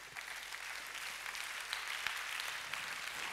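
A church congregation applauding the Lord, dense continuous clapping from many hands, moderately distant and even, lasting the whole moment without speech.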